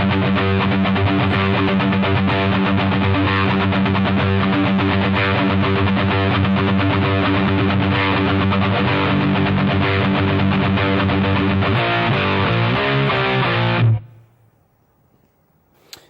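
Distorted electric guitar riff from the middle section of a song, thick and continuous, shifting to choppier notes near the end before cutting off and ringing out briefly into near silence.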